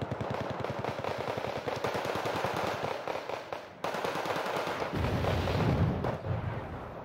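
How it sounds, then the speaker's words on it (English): Rapid machine gun bursts fire in the strategy game Wargame, loud dense rattling that runs almost continuously, with a brief break and then heavier booming fire mixed in. "I should have turned off the machine gun on this, but it's too late there."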